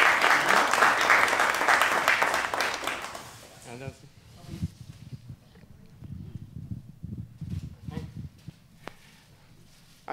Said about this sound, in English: I'm gonna just ask you, everyone to clap your hands because they are very brilliant.